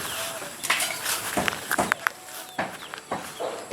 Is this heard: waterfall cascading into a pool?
no